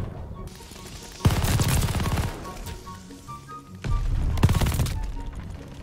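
MG42 machine gun fire in Call of Duty: Vanguard, two loud rapid bursts of about a second each, with a quieter stretch of game noise between them.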